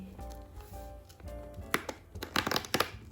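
Plastic and foil wrapping on a chocolate advent calendar window crinkles as it is pried open: a few sharp, close crackles cluster in the second half over soft background music.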